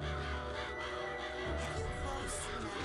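Crows cawing in the video game Psychonauts, harsh calls over a dense, loud game soundtrack that fills the whole clip.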